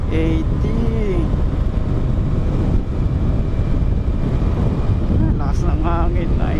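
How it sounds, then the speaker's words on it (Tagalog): Strong wind buffets the microphone as a Yamaha Mio i 125 motorcycle speeds along, a constant low roar with faint tonal traces that may be a voice. "Lakas ng hangin."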